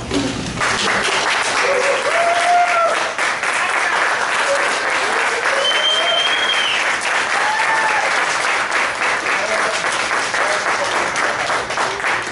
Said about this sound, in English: The applause, that's fancy.